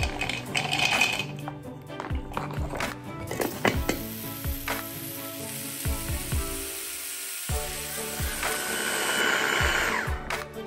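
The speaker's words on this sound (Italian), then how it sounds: "Le metteremo all'interno del nostro frullatore e le faremo diventare farina." A kitchen blender grinds whole peeled almonds into flour: loud, close whirring mixed with hard rattling and clattering bursts as the nuts break, easing briefly mid-way before the motor roars on steadily.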